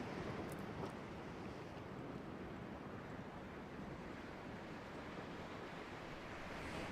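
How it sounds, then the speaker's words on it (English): Steady broadband rush of a waterfall in the snowy survival game The Long Dark, with a hint of wind, constant and moderately distant throughout with no voices over it. "Oh, that's the waterfall"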